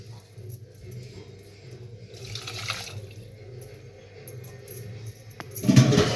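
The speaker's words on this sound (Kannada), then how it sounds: "ಇಷ್ಟಾದ್ಮೇಲೆ ನೀರು ಹಾಕೊಂಡ್ಬಿಟ್ರಿ" Water is poured into a pot while cooking in a home kitchen, with two short splashing bursts, the second louder near the end, over a quiet background.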